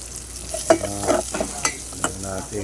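A spoon stirring mung bean stew in a cooking pot, with several scraping, clinking strokes over a soft simmering sizzle, close and moderately loud.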